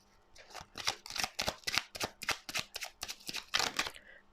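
Tarot cards being shuffled by hand, heard up close as a rapid, steady run of crisp riffling bursts that keep going without a pause and with no voice over them.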